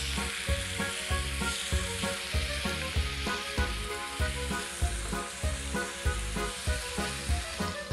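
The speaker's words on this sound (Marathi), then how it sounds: "सुरमई फ्राय करून झालेली आहे" Surmai (kingfish) fries in a pan with a steady, close sizzle and crackle, the oil hissing evenly throughout with no voices.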